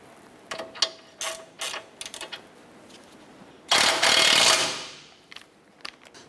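A hand ratchet snugs down the outer tie rod nut on a 2008–2012 Honda Accord front end. Quick clicking pawl bursts come close up, then one longer, louder run of ratcheting, followed by a few scattered clicks.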